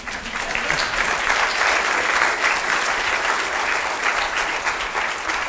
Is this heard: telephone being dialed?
no